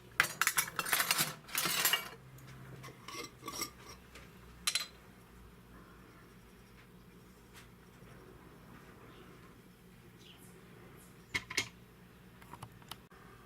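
A metal spoon clinks and scrapes against a bowl as salt, garlic powder and other sweet and sour sauce ingredients are stirred together, with bursts of clatter early on, then quieter sporadic taps.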